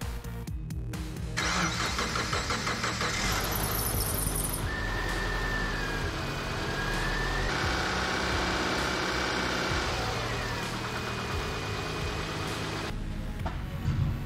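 A Subaru Impreza 2.5 SOHC engine cranks with a rapid starter chatter, catches and settles into a steady close idle with a faint belt squeal, running on after valve cover gasket work.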